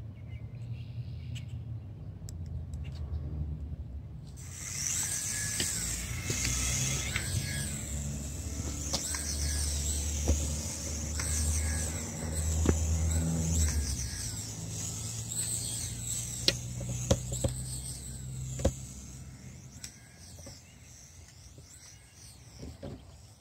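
A cheap dollar store infrared toy helicopter starts up outdoors after a few quiet seconds, its tiny rotor and motor giving a steady whirring whine that drifts and fades toward the end.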